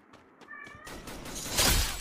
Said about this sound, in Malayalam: ഒന്ന് പോ പൂച്ച